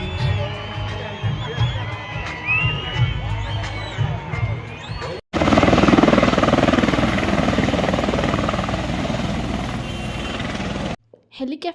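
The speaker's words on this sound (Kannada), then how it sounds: "ಹೆಲಿಕಾಪ್ಟರ್ನಲ್ಲಿ ಹಂಪಿನ ತೋರಿಸುವಂತಹ ಹೆಲಿಕಾಪ್ಟರ್ನಲ್ಲಿ ಹೋಗುವಂಥ ಸಹ ಇತ್ತು." A tourist helicopter flying visitors over Hampi during the Hampi Utsava festival, its loud, steady rotor roar swelling in midway and holding for several seconds after a stretch of crowd noise and voices.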